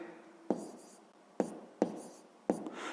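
A pen scratches across paper during a sixth-grade maths exercise, with four short, sharp strokes at uneven intervals that stand out against a quiet room.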